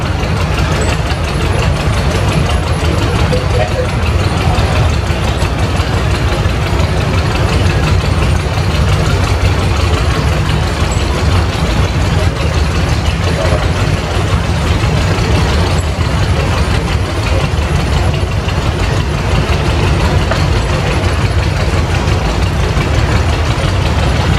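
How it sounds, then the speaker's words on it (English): A 1953 John Deere 720 tractor runs steadily in a parade at Mount Pleasant, Iowa, its loud, continuous low engine rumble filling the scene without pause alongside broad outdoor noise. "1953 John Deere 720 owned by the Manning Farms of Batavia, Iowa"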